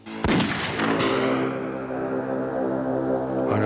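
A single loud, sharp gunshot cracks out and rings down with a long echoing tail, followed by a second fainter report, with no talk.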